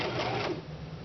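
A sewing machine stitching elastic onto fabric for a bar stool cover, giving a steady, close, loud mechanical whirr with rapid needle clatter that runs throughout the short moment, with no voices.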